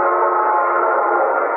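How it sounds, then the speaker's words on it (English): A sustained train whistle blows in one steady, unbroken tone, loud and continuous, with no other sounds around it. "the train blew for a water stop 3 miles ahead"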